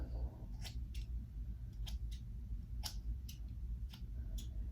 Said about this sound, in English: I take it and then I cut the blonde off